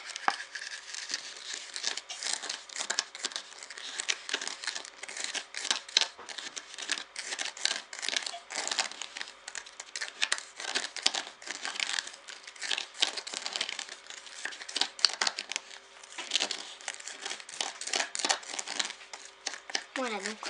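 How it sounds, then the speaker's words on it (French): Ingredients for a homemade Lush-style lip scrub being stirred together in a bowl, a steady run of gritty scraping and crinkly clicking close by that continues throughout with barely a pause. "Et nous allons mélanger le tout."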